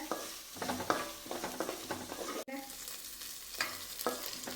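Beef frying in a pan with ginger, garlic and green chillies, a close, crackling sizzle broken by repeated stirring scrapes, with a short break midway.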